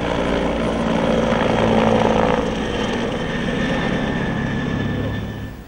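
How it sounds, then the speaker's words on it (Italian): Forest service helicopters fly over a burned area, a continuous loud rotor and engine drone that swells slightly and then holds steady, with no talk over it. "Intanto gli elicotteri della Guardia Forestale continuano il lavoro di bonifica."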